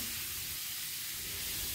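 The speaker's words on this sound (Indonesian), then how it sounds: "Ditumis dulu bumbunya." Spice paste for a bacang filling sautéing in a pan gives a steady, even sizzling hiss that runs without a break throughout, close and moderately loud, with no voices.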